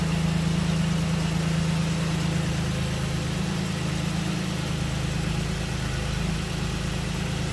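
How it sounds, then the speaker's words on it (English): Steady idle of a 1994 Toyota Pickup's 3-liter fuel-injected engine, a continuous low rumble with a smooth, even drone throughout, close by and fairly loud. "Here it is, a 3-liter electronic fuel injection."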